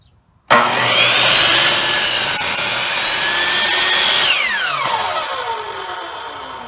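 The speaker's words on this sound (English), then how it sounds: "let's go ahead and give this a cut now that it's all clamped in there good and tight" A hand saw cuts through clamped wood to form a scarf joint for a cigar box guitar, a close steady rasping stroke that starts abruptly and runs continuously before tapering as the cut finishes.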